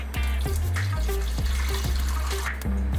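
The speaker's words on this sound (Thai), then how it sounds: "ก็เติมน้ำร้อนง่ายมากก็คือเปิดตรงนี้นะครับ แล้วก็ใส่น้ำลงไปเลย" Water pours steadily into the reservoir of a Duchess CM4200 coffee machine, a continuous close splashing and trickling with a few small bumps, no voices.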